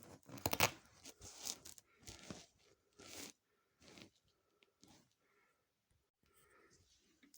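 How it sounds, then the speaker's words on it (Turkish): Velcro fastener on a Renault Scenic 3 car seat being pulled apart in slow rasping bursts, loud at first and then quieter, separated by short pauses, with faint rustling toward the end. "Şunlar Amerikan fermuarı çırt çırtlı. Yırtmadan yavaşça alacağım."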